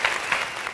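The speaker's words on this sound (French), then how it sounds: "Ça s'applaudit." A studio audience breaks into brisk applause, a short, dense burst of clapping with slight swells.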